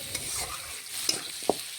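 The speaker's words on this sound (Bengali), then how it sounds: "এখন পেঁয়াজের সাথে নাড়াচাড়া করে আলুগুলো ভেজে নিচ্ছি।" Potatoes fried and stirred with onions and a little turmeric in a pan give a quiet, continuous sizzle, with a few soft spatula scrapes and knocks.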